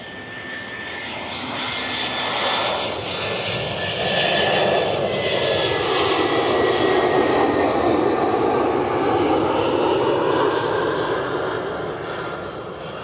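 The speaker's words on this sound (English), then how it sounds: "737 is taxiing out." An American Airlines Boeing 737 jet taxis at Cleveland Hopkins airport, its engines producing a steady, fairly loud whine and roar that swells slightly and holds for several seconds, with no voices.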